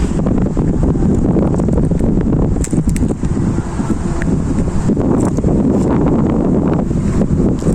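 Strong cold wind buffets the microphone continuously outdoors in Israel, a loud rumbling roar with gusty bursts and no clear voices.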